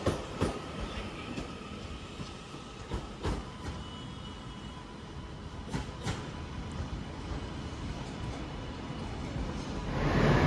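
A Class 331 passenger train pulls out of Manchester Piccadilly station bound for Alderley Edge, its rolling rumble and wheel clicks steady and fairly close, with rhythmic clunks over rail joints and a rising roar near the end.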